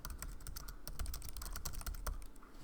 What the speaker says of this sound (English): I'm gonna type the same thing.